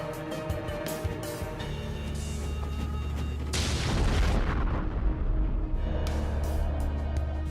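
A robot self-destructs in an animated scene, setting off a heavy booming explosion midway that rumbles and crackles for a few seconds, with quieter music and effects before and after.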